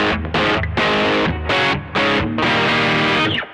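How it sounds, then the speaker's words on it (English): Electric guitar and amplifier driven through a distortion pedal, thick crunchy chords struck in a steady series of loud sustained hits with brief breaks between, no voices. "This is the sound of your amplifier and guitar"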